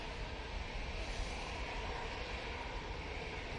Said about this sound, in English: Emirates is on final now.